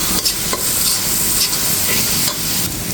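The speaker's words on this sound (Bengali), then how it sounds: "এখানে আমি মশলাটা খুব সুন্দর করে কষিয়ে নিচ্ছি।" Ground coriander and cumin with other spices are stirred and fried in oil in a pan, a steady close sizzle broken by soft scraping strokes of the spoon, with no talking.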